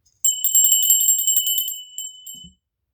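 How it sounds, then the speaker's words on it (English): A small bright bell rings in a quick rapid trill for about two seconds, then stops, loud and close, followed by a faint low thump. "Let's ring the bell. Watch your ear holes"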